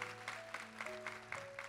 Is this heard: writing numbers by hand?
no